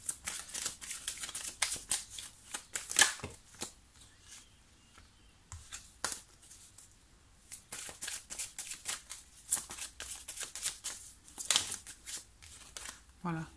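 Tarot cards are shuffled by hand in close, soft riffling and sliding bursts, with a few sharp card snaps, while someone speaks French over them.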